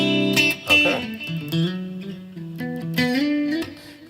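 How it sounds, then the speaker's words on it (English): An electric guitar on a split outer coils pickup setting plays a melodic phrase of bright, clear single notes and slides, sounding close and alone. "And then this is split outer coils."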